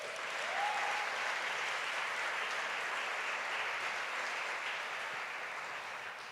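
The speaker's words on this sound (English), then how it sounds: "let's give the choir another round of applause" Steady, dense audience applause for a choir at an awards ceremony, loud and sustained throughout without any voices.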